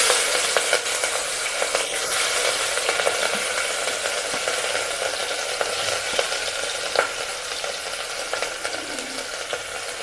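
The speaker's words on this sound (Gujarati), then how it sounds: "પછી આપણે નાખીએ મીઠો લીમડો, હવે લીલા મરચાં," Curry leaves and green chillies sizzle and crackle in hot oil while a masoor dal tempering is stirred, giving a steady, close frying hiss with small pops throughout.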